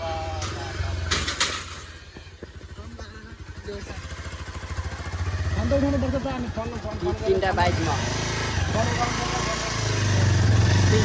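Three motorcycle engines idle and rev at close range, rising and falling, with people talking over the engine noise.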